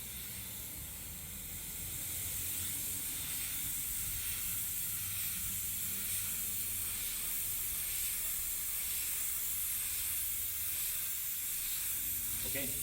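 Spray gun hisses steadily and close up, laying white base coat onto a Tesla Model X bumper during a mobile three-stage pearl white repair, a continuous broadband airy rush with no speech.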